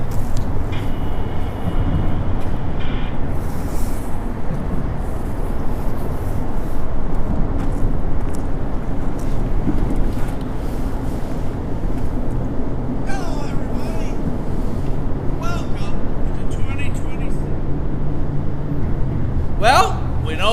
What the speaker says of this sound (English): 5 locomotives on the head end of that northbound NS train, passing through Junction Point North Dalton.